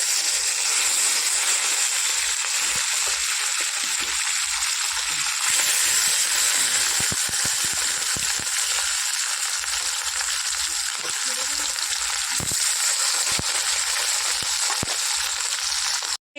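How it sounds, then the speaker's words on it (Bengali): Fish sizzling steadily in hot oil in a home kitchen, a dense continuous frying hiss with occasional sharper pops and spatters throughout, close and fairly loud with no talk. "তেল গরম হয়ে গেছে মাছগুলো দিয়ে দিই"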